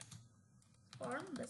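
Keyboard typing of a short search phrase into a plugin search box, a brief cluster of soft key clicks near the end with a faint voice alongside.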